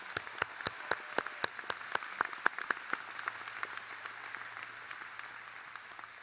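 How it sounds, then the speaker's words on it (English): Faint, sparse clapping from a high school graduation audience: scattered individual claps, quite distant, thinning out toward the end. "Could we just give them all a round of applause at this time?"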